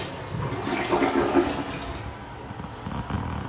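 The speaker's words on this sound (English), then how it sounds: "You see that flusher right there on the side?" A toilet flushing in a men's room, a close, loud rush of water that swells and then drains away over a few seconds, with no talk.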